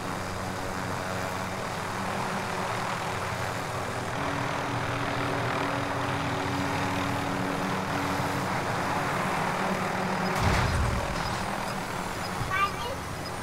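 Aircraft engine drones steadily throughout flight in Call of Duty Warzone, a constant broadband roar with a brief louder swell near the end; no clear talk over it.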